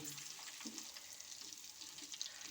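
Achari masala-stuffed green chillies cooking in a pot of dal, giving a faint, steady sizzle and soft bubbling with light stirring, no voices.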